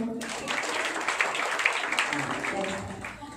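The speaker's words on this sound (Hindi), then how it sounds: "जागृति के लिए ताली बजाएं." A small family gathering bursts into applause lasting a few seconds, uneven clapping of moderate loudness with a voice speaking over it.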